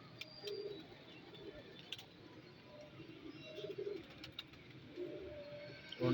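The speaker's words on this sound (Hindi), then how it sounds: "ये है जी माशाल्लाह हमारे कबूतर।" Pigeons coo softly in repeated low, throaty bursts, with faint bird chirps and light background noise around them.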